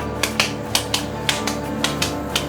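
Raw hamburger patty for a BBQ bacon rodeo burger slapped back and forth between two hands, giving a steady run of sharp, close, wet slaps about every quarter second over a faint room hum.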